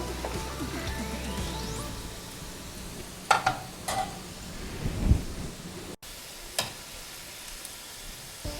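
Whole baby potatoes deep-frying in hot oil, a steady crackling sizzle running throughout, broken by a few sharp knocks and clatters of a utensil against the pan, close up.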